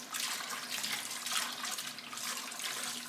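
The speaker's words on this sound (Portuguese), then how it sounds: "Se tiver um barulhinho ao fundo, borbulhando, é o arroz." Steady bubbling and hissing of rice cooking on a stove, a continuous broadband wash with a faint low hum, moderately loud and close, with no talking.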